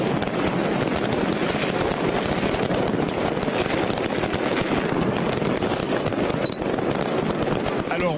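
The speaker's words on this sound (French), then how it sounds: "l'interdiction des pétards n'a pas été franchement respectée, mais énorme cette ambiance à Naples" Firecrackers set off at night across Naples, a dense, continuous barrage of crackling bangs and pops that fills the whole stretch loudly, with crowd noise mixed in beneath the explosions.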